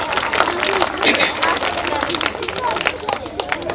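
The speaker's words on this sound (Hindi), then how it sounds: "तो एक बार जोरदार तालियां श्रीमान मनफूल जी के" Audience applause at a school annual function, a dense continuous patter of many hands clapping, loud and close, mixed with crowd murmur and voices throughout.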